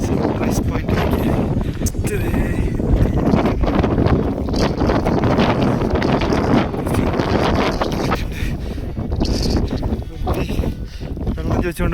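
Strong wind buffets the microphone on the foggy Meesapulimala summit near Munnar at 8,660 ft, a loud continuous roar with gusty rumbling throughout.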